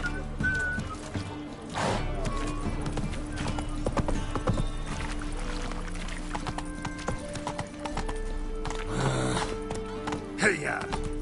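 A horse is ridden at speed in The Witcher 3, its hooves drumming in a rapid, continuous clip-clop rhythm with occasional whinnies, layered under game voices and sound effects.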